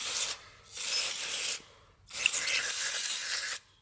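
Two long hissing sprays of carburetor cleaner from an aerosol can onto the carburetor of an old GMC military truck, each about a second and a half, separated by a short pause, close and fairly quiet.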